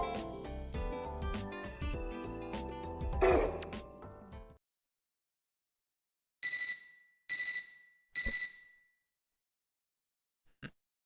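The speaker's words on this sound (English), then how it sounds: "I woke up to a ringing sound like an alarm clock." Video game Fate Extra CCC: after a stretch of music, three short bright alarm-clock-like ringing bursts sound in sequence against silence, followed by a brief blip.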